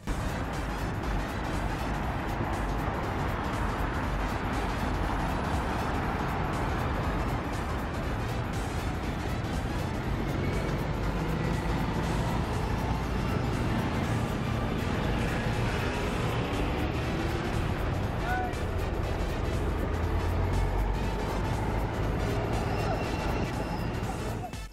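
A Sonic movie themed bus drives through busy London traffic, with a steady broadband rumble of engines and passing vehicles close by throughout.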